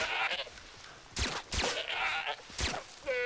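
Goats bleating in the video game Far Cry 3, several loud wavering bleats close by in quick succession over faint background game noise.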